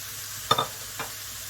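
Chilli, ginger and garlic frying in a pan give a steady low sizzle, broken by two brief stirring scrapes, no talk.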